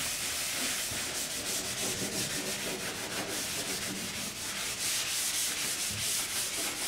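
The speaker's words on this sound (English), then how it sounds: "I'll go back over where we did it with the sandpaper" Continuous rough scratching of sandpaper rubbed back and forth against metal around rivets, close and steady with a quick rhythmic texture.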